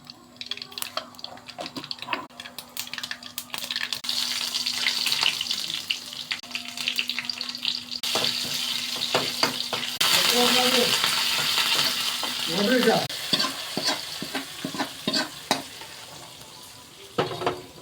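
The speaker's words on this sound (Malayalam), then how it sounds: "ഞാൻ കടുക് വറുക്കുവാണ്" Steady crackling sizzle of mustard seeds frying in a pan, with water running and clattering kitchen sounds mixed in, a few sharp pops near the end.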